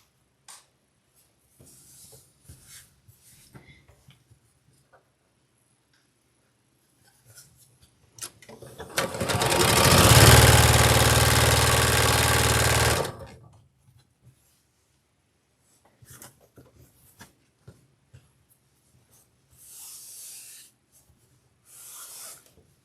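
Quilt block patchwork seam being sewn on a sewing machine, one burst of fast whirring stitching lasting about four seconds amid quiet fabric handling and soft rustles.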